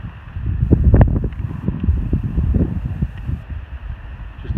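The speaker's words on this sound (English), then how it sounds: "you can hear that wind blowing" Gusty wind buffets a microphone at the Taylor Mountain overlook, about 2,300 feet up on the Appalachian Trail, a loud, close, uneven rumble rising and falling in bursts, alone without talk.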